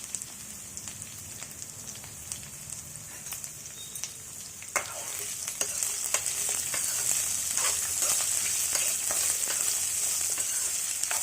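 Chopped ginger, garlic and onion pieces fry in hot oil until golden, giving a steady hissing sizzle with scattered crackles and pops that grow louder and denser in the second half, close and unbroken, with no talking.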